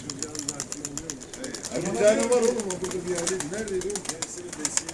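Pigeons coo in repeated low rolling calls, fairly close, while people talk over them throughout.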